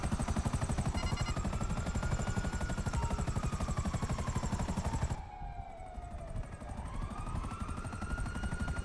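A helicopter in GTA V lands on a rooftop, its rotors pounding in a loud, fast, continuous chop while a police siren wails and sweeps in pitch behind it, with no one talking.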